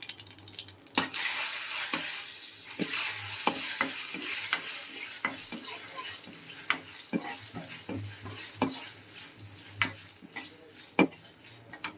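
Spices tempered in hot oil in a kadai for dal give a steady bright sizzle, punctuated by sharp clinks and scrapes of a spoon stirring against the pan.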